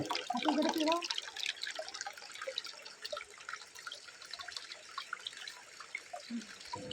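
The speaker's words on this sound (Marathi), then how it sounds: "ओढ्याच्या पाण्यात खेळताना" Stream water at Dugve in Ratnagiri splashes and trickles as someone plays in it, with irregular small splashes and drips over a steady flow and a brief voice at the start.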